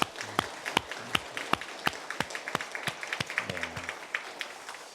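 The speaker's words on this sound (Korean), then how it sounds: "자, 우리 하나님께 감사의 찬양 박수 올려드리겠습니다." A church congregation claps in praise during a Sunday worship service, sharp regular beats in a steady rhythm that then become quicker and denser, moderately loud in a reverberant hall.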